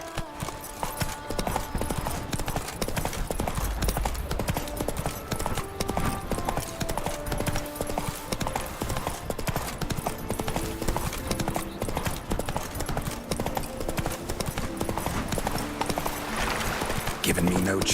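Roach the horse in The Witcher 3 clip-clops at a steady walking gait for a long stretch, hoof falls close and even, with game ambience and music underneath.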